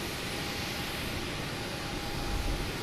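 An airplane rumbles at Boston Logan Airport, with a steady, dense roar of jet engine noise that fills the whole stretch and swells slightly toward the end, with no voices.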